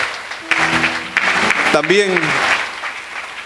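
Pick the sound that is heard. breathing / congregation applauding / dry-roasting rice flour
congregation applauding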